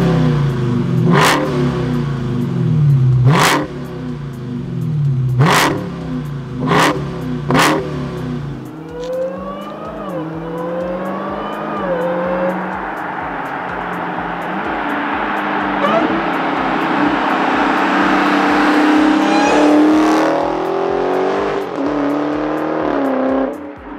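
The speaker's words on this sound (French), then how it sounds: "on va aller voir sur la route si on peut s'amuser un peu avec 797 chevaux." A 2021 Dodge Charger SRT Hellcat Redeye with 797 horsepower on the road, first blipped in several sharp revs, then accelerating hard with a loud, rising engine roar through gear changes.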